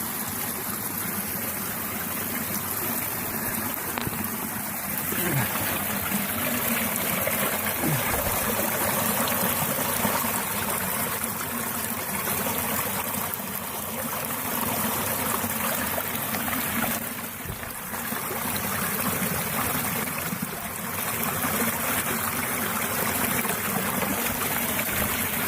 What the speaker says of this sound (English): I go into the creek and I get that filled